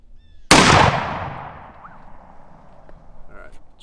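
A single sharp, loud rifle shot from a Mosin M44 or M91/30 cracks nearby, then echoes and fades over about a second outdoors.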